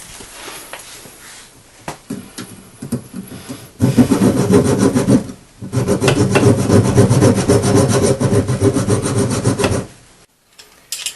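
A small blade cuts and splits a rubber washing machine hose in close, loud bursts of rasping scraping, quieter clicks at first, then two long sawing strokes separated by a brief pause before falling silent.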